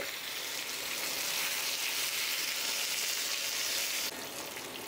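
Soybean curry sizzles in a pan over a low gas flame while being mixed, a steady, close, even frying hiss that drops slightly in loudness near the end.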